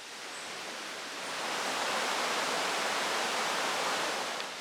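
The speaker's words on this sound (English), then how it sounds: "And the river is behind us there." A river flows behind a Jamaican flower forest, giving a constant broadband rush of water that swells slightly louder partway through, with no voices.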